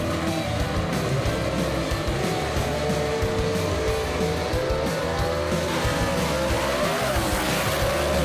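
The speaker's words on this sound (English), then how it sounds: "Oh, we got a drag race here," Gasser cars drag racing at Knoxville Dragway, engines roaring and revving loud and continuous as they run down the strip, with faint crowd or announcer sound underneath.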